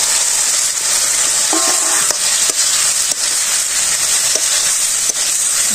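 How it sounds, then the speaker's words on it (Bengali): Fried pointed gourd pieces go into a hot pan during village-style cooking, raising a loud, continuous sizzle and hiss with a few scraping knocks of a stirring utensil, close and without talk. "এখন আমি ভাজা পটলগুলো দিয়ে দিব। এই যেমন ভাজা পটল,"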